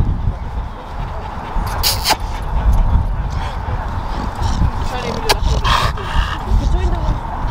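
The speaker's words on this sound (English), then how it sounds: "there's so many dogs" Several dogs, including XL bullies, cane corsos and pocket bullies at a dog meetup, bark and whimper close by in a noisy outdoor scene.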